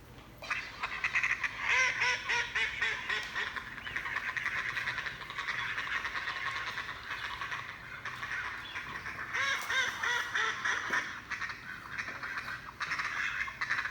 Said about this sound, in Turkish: Tabii ki de bu ördeklerin sesleri.